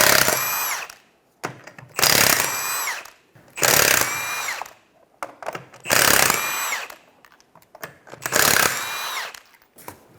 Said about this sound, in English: Take your 5 21mm lug nuts off.